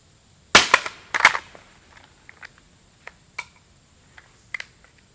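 A vz. 58 rifle magazine dropped in a drop test lands with a sharp metallic impact, bounces with a second clack, then settles with scattered faint ticks and rattles, close and otherwise quiet.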